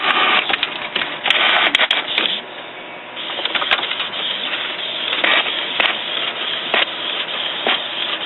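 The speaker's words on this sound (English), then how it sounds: "Now it's asking me if I want to do print out a nozzle pattern." A Canon MG-series inkjet printer with a continuous ink refill system runs a nozzle check print, its carriage and feed mechanism whirring and clicking in shifting bursts, close and fairly loud with no talk.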